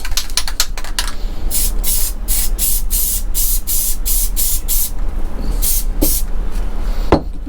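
Adhesive spray bursts from a can while corners of a guitar case are wrapped in a workshop, a series of short, loud hissing puffs in steady rhythm, close up, with no talking.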